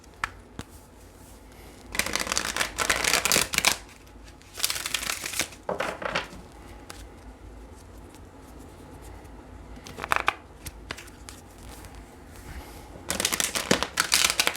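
Tarot cards are shuffled in several quick riffling bursts separated by quiet pauses, crisp and close.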